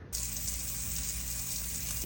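Water sprays from a burst pipe joint in an old house, a steady, close, loud hiss that starts abruptly and runs unbroken with no voices.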